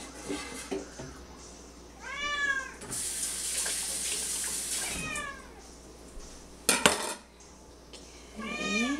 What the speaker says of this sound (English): such a poor kitty.